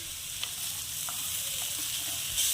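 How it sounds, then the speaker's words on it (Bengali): Chira pulao with raisins, chopped green chillies, salt and turmeric being stirred in a pan, a steady close sizzle with faint scraping taps of the spoon, no voices. "আরও কিছুক্ষণ নেড়ে চেড়ে নেব।"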